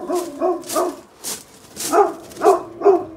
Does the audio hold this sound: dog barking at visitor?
yes